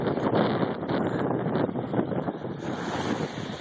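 Strong wind gusting across the microphone on the chilly Lake Huron shore, a loud, continuous rumbling roar with waves washing underneath and no talking.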